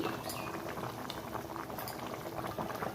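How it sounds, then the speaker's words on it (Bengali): A hybrid magur fish curry boils steadily in a pot, giving a continuous close bubbling and popping with no pauses. "তো মুড়োটা দেওয়ার পরে ভালো মতো ফুটে গেছে"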